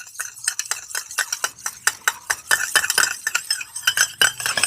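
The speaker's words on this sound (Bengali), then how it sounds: "এবারে তেল আর জলটাকে খুব ভালো করে মিশিয়ে নিতে হবে" Oil and water are whisked together in a bowl for salted biscuit dough, making a quick rhythmic run of scraping, clinking strokes that stay close and fairly loud throughout, with no voices.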